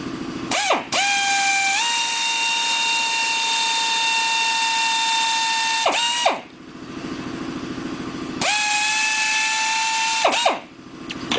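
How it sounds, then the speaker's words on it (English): A power drill bores into asbestos-free brake shoe lining material for a Willys emergency brake shoe, giving a loud, close, steady whine in two long runs, each spinning up and winding down, with a short gap between them. "I'm going to try and show you guys how nice this stuff drills"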